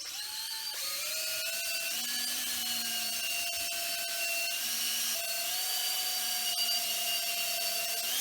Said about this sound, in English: I'm going to drill holes in it, and I'm going to put screws all around where the glue is